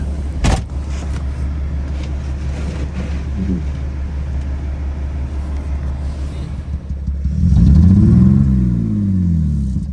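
A BMW E46 car drives on a test ride, heard from inside as a steady low engine hum, swelling into a louder revving surge toward the end.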